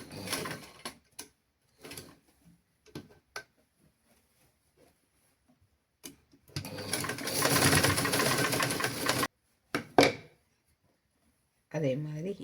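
An electric sewing machine stitches a seam on a pant for a child's garment, a steady rapid whirring run of about three seconds between short bursts and clicks, with a voice talking before and after.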